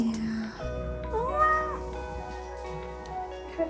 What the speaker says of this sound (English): Tom Tom, how's the kitten?